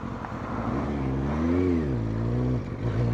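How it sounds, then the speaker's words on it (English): Motorcycle pulling away on the throttle alone without clutch control, a steady engine drone that rises and falls in pitch as it moves off, close and continuous. "We're literally just going to come out on the throttle."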